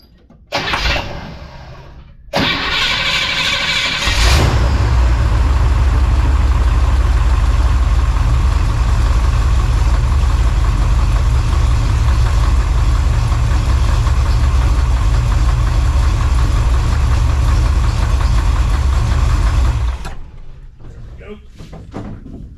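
A 1966 Chevrolet C10 pickup's engine cranks and catches after a few seconds, then settles into a loud, steady idle that runs about fifteen seconds before being shut off.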